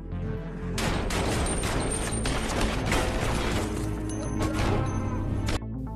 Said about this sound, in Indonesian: Alex dan Roy langsung menembak semua anak buah Jeremy.